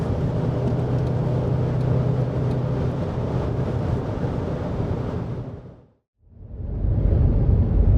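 An Audi RS4 cruising at high speed on a German motorway, a continuous loud roar of road and wind noise from inside the car that fades out briefly near the end before returning.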